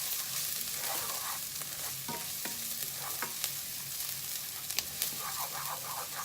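Ginger and garlic sizzle steadily in a hot pan while a utensil stirs them, scraping and tapping the metal in irregular strokes, close and fairly quiet with no one talking.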